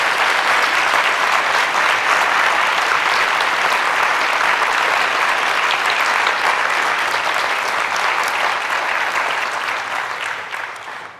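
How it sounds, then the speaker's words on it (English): A church congregation at Seattle Unity Church applauds in a dense, sustained wash of clapping that stays loud and even, then fades out over the final seconds. "could we give her a round of applause in thanking her?"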